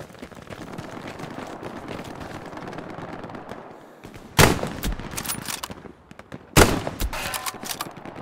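Gunfire in the World War II shooter Hell Let Loose: a rattle of distant shots, then two loud, sharp close rifle blasts a couple of seconds apart, each trailing off in echo.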